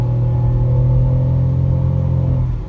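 Chery Tiggo 3X compact SUV with a 1.0 engine accelerating hard from inside the cabin, a steady loud engine drone and rumble holding throughout, easing slightly at the end.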